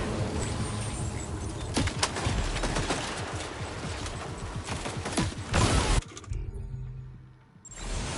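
Dense, rapid gunfire rattles in the video game Death Stranding 2 (PS5 Pro). Loud, continuous bursts of crackling shots run for about six seconds, then drop to a quieter lull before the firing picks up again.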